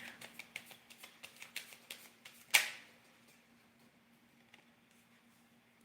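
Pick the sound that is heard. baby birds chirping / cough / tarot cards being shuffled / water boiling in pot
tarot cards being shuffled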